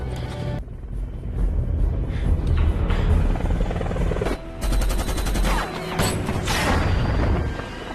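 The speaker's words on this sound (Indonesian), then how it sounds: "berhasil menembak jatuh pesawat heli itu" A helicopter battle scene in a sniper revenge film: continuous rotor and engine roar with dense bursts of gunfire and crashing impacts, loud and chaotic throughout, with a sharp shift midway as heavier fire and debris erupt.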